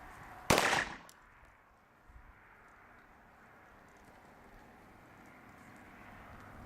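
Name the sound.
pistol gunshots during CCW qualification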